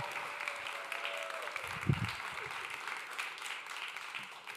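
Church audience applauding Kids Camp volunteers, a steady wash of clapping from a crowd across the whole stretch, moderately loud, with a brief low thump partway through.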